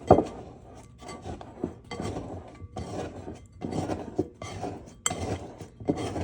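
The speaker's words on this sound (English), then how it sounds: "This is a little scraper. I'll go around the edges of the bowl to pull all the flour off." A small dough scraper rasps around the sides of a bowl, pulling flour off in repeated short scraping strokes, close and fairly quiet with no talk.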